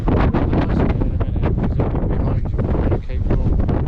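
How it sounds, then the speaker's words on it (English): Gusty wind buffets the microphone on a Cornish coastal path, a loud, continuous roar that surges and dips, with no clear speech over it. "The wind is a bit gusty now,"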